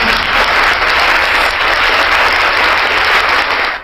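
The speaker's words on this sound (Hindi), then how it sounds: "आप सभी का हमारे चैनल पर तालियों के साथ स्वागत है।" Dense, loud and continuous applause, like a large crowd clapping steadily without pause, used as a welcome on a Hindu devotional channel before a Sunday fast story.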